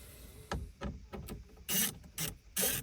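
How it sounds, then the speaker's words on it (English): A 7mm socket ratchet backs out screws from the temperature control panel of a 2016 Chevy Sonic, giving quiet, close bursts of rasping clicks in an irregular rhythm. "I have 7mm socket here, and I'm going to go ahead and remove those."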